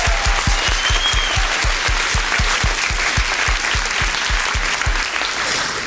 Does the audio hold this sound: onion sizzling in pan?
no